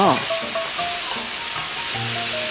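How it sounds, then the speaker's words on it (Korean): Beef and peeled shrimp stir-frying in a hot pan, a steady loud sizzle with scraping stirs and brief clatters of the utensil against the pan. "고기가 거의 다 익으면 깐새우를 넣고 몇 번 더 뒤적여주세요"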